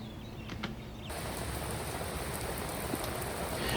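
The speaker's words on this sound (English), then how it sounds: "we finally got some rain, so here we go" Steady rain hisses close by while riding a Can-Am Ryker. It is fairly soft for the first second, then becomes a louder, even downpour that continues to the end.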